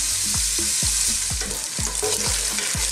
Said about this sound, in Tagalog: Mga 7 minutes or 6 minutes na haluin lang natin, pero hindi natin susunugin.